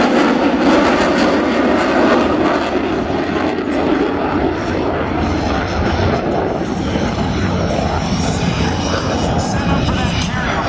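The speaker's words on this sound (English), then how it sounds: "The Hornet's going to come over at 500 feet before perform an overhead brake" A U.S. Navy F/A-18E Super Hornet passes overhead at about 500 feet during an air show demonstration, its jet engine producing a loud, steady, broadband roar that fills the whole stretch without letup.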